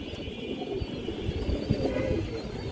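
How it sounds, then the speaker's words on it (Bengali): A light silver pigeon coos in soft, low, repeated pulses, fairly faint and close against a steady background hiss, with no talk. "লাইট কালারের জাবরা সিলভার কৌতর"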